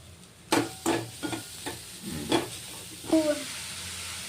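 Mushrooms stirred into a pan with onion, green chilli and garlic, a soft sizzle under a series of scraping spoon strokes and clatters, close and moderately loud.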